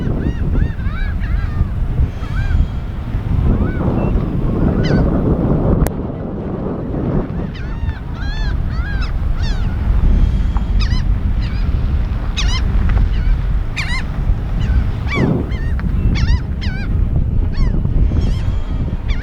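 Gulls at a beach on spring break call over steady wind noise, with repeated sharp squawks and honking cries from several birds, some near and some farther off, throughout.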